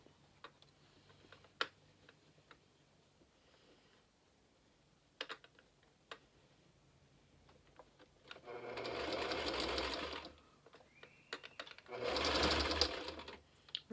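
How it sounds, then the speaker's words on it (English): A sewing machine stitches over a pinched ruffle on a rococo cosplay dress, with two sustained loud bursts of rapid motor-driven stitching following a stretch of quiet, scattered ticks and clicks. "and then sewing over it"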